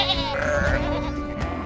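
A sheep gives one loud, close, wavering bleat that fills the short moment.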